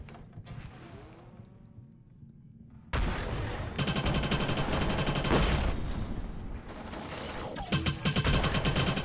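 Pistol gunfire in Killzone Shadow Fall multiplayer: after a quiet stretch of faint game ambience, loud rapid shots with sharp mechanical clacks break out and continue densely, close and intense, with no talking.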